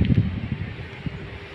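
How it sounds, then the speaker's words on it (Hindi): Cool wind blowing outdoors on a summer duty post in Delhi, a soft, steady low rush with brief buffeting gusts against the microphone, no talk. "अभी ठंडी ठंडी हवा चल रही है"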